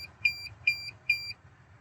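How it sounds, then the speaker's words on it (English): Sharp, high-pitched electronic beeps from a remote start module in a Hyundai Santa Fe sound close by in evenly spaced pairs, each loud chirp followed by a softer echo, over a faint low hum. "those are the 4 beeps"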